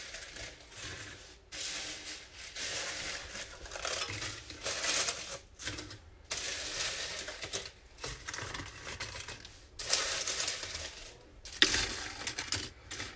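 Organic tortilla chips are stirred into a dinner, giving bursts of crunchy crinkling and scraping that come and go in uneven waves, close and moderately loud, with short pauses between.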